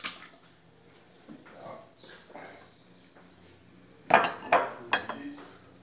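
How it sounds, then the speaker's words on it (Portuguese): Three eggs go into a blender while making a blender panettone, giving a few sharp clinks and knocks against glass and dishes after a quieter stretch of faint kitchen noise. "3 ovos que eu vou estar colocando no liquidificador"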